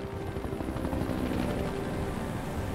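A helicopter in the video game Resident Evil 5 thrums with a continuous rotor chop and engine drone, loud and close, the beat holding steady throughout with no talk on top.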